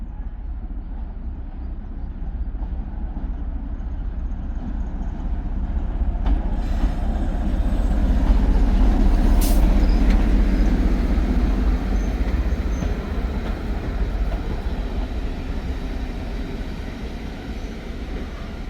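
Spa Valley Railway heritage train running toward Groombridge, heard from on board: a continuous low rumble and rolling clatter that swells in the middle before easing back, loud and close, with no voices.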